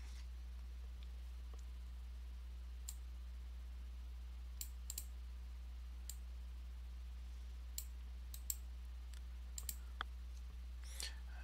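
Quiet, scattered clicks of computer keyboard keys while a terminal command is typed, faint and sparse over a low steady hum.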